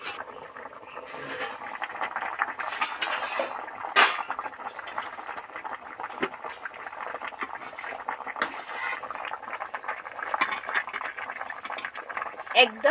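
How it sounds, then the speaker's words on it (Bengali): Potatoes boil in a pot of water with a faint, continuous bubbling and occasional clinks from the pot, while a person talks over it. "টকবক টকবক করে তো আলুগুলোর মানে ফুটছে আওয়াজ হচ্ছে"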